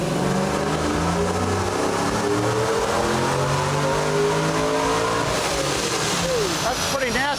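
A supercharged Chevrolet Trailblazer SS drift truck running an engine-management kit roars continuously on a dyno, loud and close, climbing in pitch as it revs toward the end. Voices can be heard over it.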